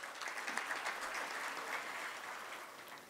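Dense applause from a summit audience rolls on for a few seconds, moderately distant and even, with no voices rising above it.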